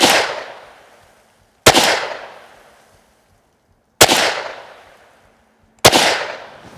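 A Ruger American rifle fires four sharp, loud shots at slow, uneven intervals, each crack decaying into a short outdoor echo before the next, with no talking in between.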